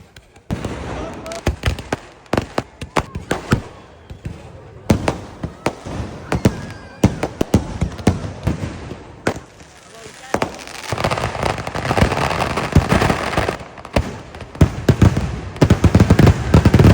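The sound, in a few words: fireworks at a temple festival puja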